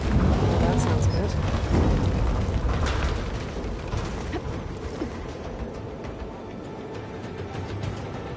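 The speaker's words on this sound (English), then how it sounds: "The storm's getting bad." A thunderstorm with rain in Horizon Forbidden West: a steady hiss of heavy rain and wind with low rumbling thunder, loudest at the start and easing into a softer, continuous downpour.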